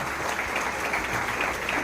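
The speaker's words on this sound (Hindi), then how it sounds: "जोरदार तालियां।" Loud, dense applause from a crowd at a school celebration, steady and sustained throughout with no voices over it.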